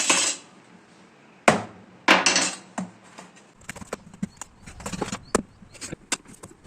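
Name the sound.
cutting a bottle gourd (lau) for curry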